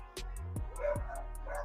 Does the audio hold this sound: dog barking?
yes